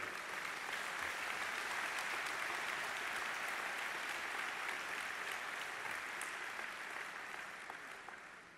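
A large crowd at a PAP party rally in Singapore claps and cheers in a sustained, even wash of sound that slowly fades toward the end.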